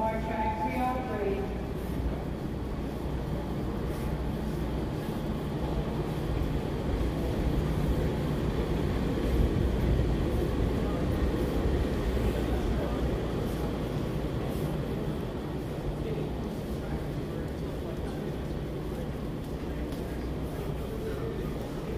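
Steady low rumble and broad hum fill the Long Island Rail Road concourse at Grand Central Madison, with indistinct voices murmuring throughout at a constant level.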